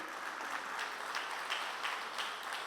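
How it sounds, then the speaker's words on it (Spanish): A church congregation gives faint, distant applause during a Christmas sermon, a soft steady patter of clapping with a few slightly louder bursts. "Dale fuerte el aplauso al Señor."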